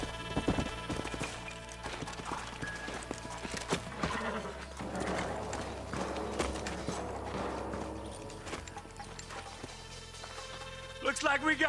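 Horse hooves clip-clop amid busy Red Dead Redemption sound effects and music, with occasional louder clatter, moderately close, in the town of Armadillo.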